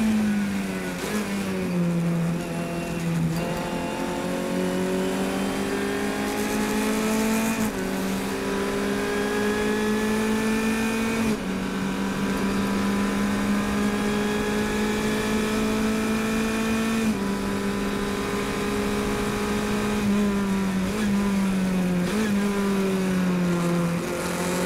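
An F500 race car with a continuously variable transmission drones at a high, sustained engine pitch, holding nearly steady with brief dips and rises as it runs loud and close, with no speech.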